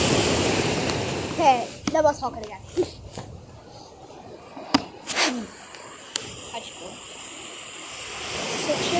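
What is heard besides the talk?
big sea waves breaking on the shore at Staithes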